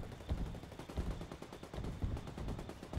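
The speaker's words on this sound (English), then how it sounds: "Mortar's coming down." Mortar rounds strike in Ghost War, a PS4 league match, as a quiet, distant string of dull thuds and cracks that rumble in an uneven rhythm with no voices.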